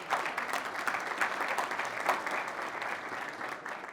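A general-assembly audience gives moderate, steady applause to welcome a guest named Louis, many hands clapping evenly across the whole stretch at a modest distance.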